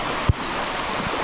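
Floodwater in a swollen creek rushes past a high school with a steady, powerful roar, broken early by a single low thump.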